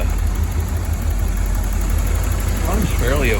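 A 1985 Porsche 928 with a five-speed idles after more than a decade in storage. A low, steady engine drone holds close and even, with a faint voice rising briefly near the end.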